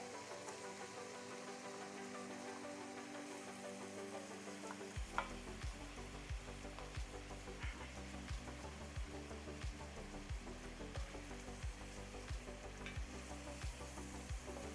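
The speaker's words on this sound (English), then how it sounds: "Onions, garlic, and celery in bacon fat." Onions, garlic and celery frying in bacon fat, a steady close sizzle that starts quietly and then intensifies with crackling pops and occasional stirring.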